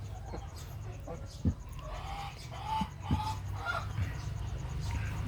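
Splash-colored chickens, including a young bird from a backyard flock after heavy rain, cluck and call in short, scattered bursts at moderate distance over a steady low hum, with faint voices in the background.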